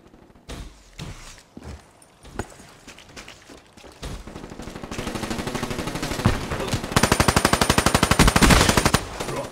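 Gunfire in Black Ops 3 multiplayer: scattered single shots and footsteps give way to loud, close, rapid automatic fire in sustained rattling bursts.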